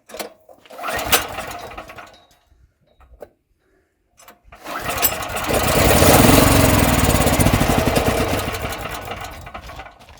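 An All Power APGG12000GL dual fuel generator with bad gas, primed and choked, cranks and catches with short bursts, then roars to a steady loud run for several seconds before the engine fades and dies.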